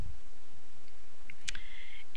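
A single sharp mouse click on an accept button in 3D animation software stands out against a quiet room hum, followed by a brief faint tone.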